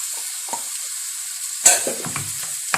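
Minced-meat kefta frying in a pan, a steady high sizzle with a sharp crackling burst as it goes in, followed by scattered clatters from stirring.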